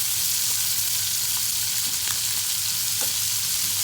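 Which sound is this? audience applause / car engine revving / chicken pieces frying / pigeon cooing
chicken pieces frying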